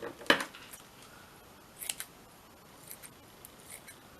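Fabric scissors cutting paper while working in a junk journal: one sharp snip near the start, then several lighter, scattered snips and rustles over a quiet background.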